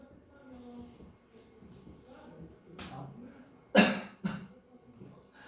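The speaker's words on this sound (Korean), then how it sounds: "지금 기침할 때 나까지 왠지 기침을 해줘야 될 것 같아" Murmured talk, then a sharp loud cough followed by a second smaller one, close by, with quieter talk resuming afterward.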